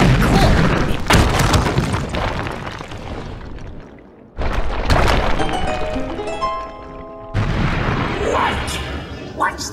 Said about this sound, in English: A bomb went off